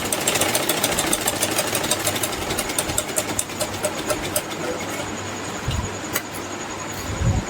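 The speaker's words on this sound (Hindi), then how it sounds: "तो चलिए सिलाई लगा लेते हैं।" A sewing machine runs steadily, stitching a three-layer frock, its rapid mechanical whirr continuous and fairly close, with faint talk in the background.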